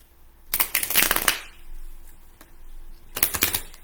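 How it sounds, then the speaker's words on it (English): A deck of tarot cards is shuffled in two quick riffling bursts, close and crisp, separated by a quiet pause with a faint tap, and no talking. "Meanwhile, I'm shuffling the cards."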